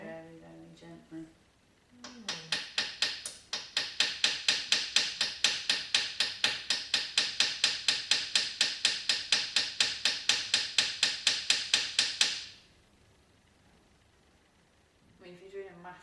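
A small hammer taps a silver rivet in jewellery making, a long run of fast, evenly spaced light strikes at close range that stop abruptly, with speech before and after.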